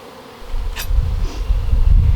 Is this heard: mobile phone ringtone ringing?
no